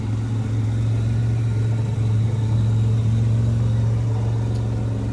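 A low-mileage Chevrolet Camaro driving down the road after sitting, heard from inside as a steady, droning engine hum with a continuous road rumble and no talking.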